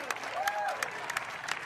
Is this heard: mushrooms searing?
no